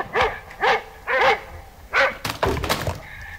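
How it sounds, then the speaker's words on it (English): A dog barks five times in an even rhythm, moderately close and clear, followed by a rough clattering thud. "The dog is heard to bark again, but this time, all traces of menace are gone."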